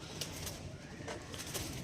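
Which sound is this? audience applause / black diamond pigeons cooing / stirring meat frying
black diamond pigeons cooing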